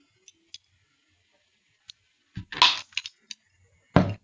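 Snips or a crimping tool cut off the excess ends of Ethernet cable wires, giving a few sharp, close snaps and clicks amid faint handling ticks, with no voices.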